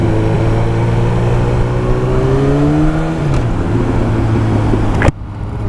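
A Yamaha R1 motorcycle engine roars loud and close at full throttle in first gear, the pitch climbing and then falling away as it shifts to neutral, and ends in a sharp break before a quieter tail.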